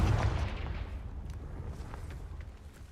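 A Confringo fire spell blast in Hogwarts Legacy, a deep rumbling boom that hits at once and then fades slowly over a few seconds, fairly quiet overall.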